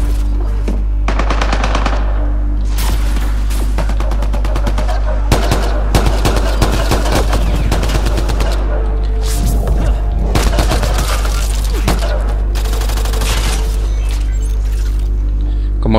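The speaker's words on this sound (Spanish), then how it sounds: "aquí no disfruto de mi fusil de asalto sweeper de munición infinita" Automatic assault rifle fire in Mass Effect Andromeda multiplayer, with repeated rapid bursts of loud gunfire over a steady low game hum, punctuated by heavier impacts and thuds throughout.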